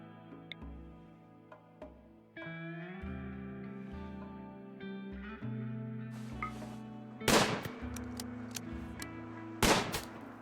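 Gunshots in the RimWorld video game, a few sharp, loud cracks ringing out over a looping tonal game soundtrack with soft ticking, two of the shots standing out clearly late in the passage.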